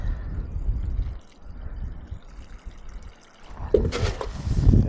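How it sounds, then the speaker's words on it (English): Water poured from a can or hose onto newly planted hollyhocks in a garden border, a soft trickling and splashing that swells, fades, then returns louder near the end. "go ahead and water those in"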